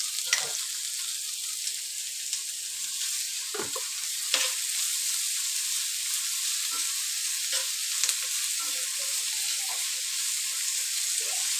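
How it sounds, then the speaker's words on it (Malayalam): Onions fry in oil with a little salt for a traditional Kerala beef roast, giving a constant close hiss and sizzle. A spatula scrapes and stirs through the pan now and then, and no one speaks. "ഉള്ളി ബ്രൗൺ നിറമാകുന്നത് വരെ മൊരിയിച്ചെടുക്കണം"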